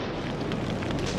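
Loud, continuous roaring blast of a grenade and flamethrower explosion in a WWII Pacific battle, a dense rumbling burst filling the whole moment with no let-up.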